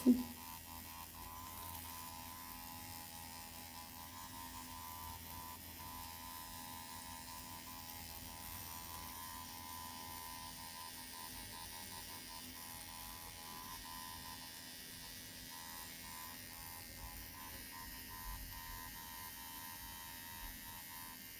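A dermapen microneedling device hums with a steady, faint electric buzz throughout an eyebrow treatment, holding an even level with no pauses.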